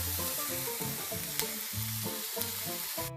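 A packaged burger patty frying in a pan, a steady close sizzle with occasional crackles and light utensil scrapes, with background music underneath.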